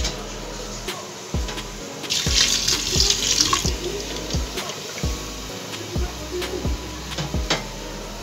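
Water from boiled noodles pours through a sieve in a kitchen, a continuous splashing gush with a brief brighter surge and scattered clanks of the utensil, close and fairly loud.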